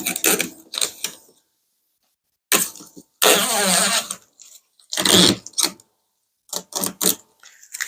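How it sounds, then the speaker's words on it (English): Red adhesive tape peeled off a carbon fiber spoiler on a 2026 Tesla Model Y, heard as several close, crackly bursts of ripping separated by short silent pauses. "I'm going to pull this red tape off from the top."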